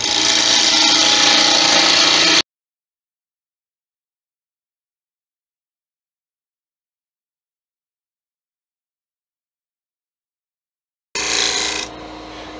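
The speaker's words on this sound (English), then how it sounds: "I'm just going to start hollowing out, but I'm going to hollow out very carefully" A wood lathe hollows out a turned wooden Christmas angel, giving a loud, dense scraping and rubbing of the cutting tool on spinning wood. The sound cuts off into a long silence and returns briefly at the end.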